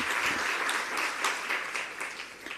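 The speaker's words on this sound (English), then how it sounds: "Can you just give a round of applause for yourself?" Audience at an employee celebration event for MQA's 30 years gives themselves a round of applause, a thick, continuous wash of many hands clapping, loud and steady throughout.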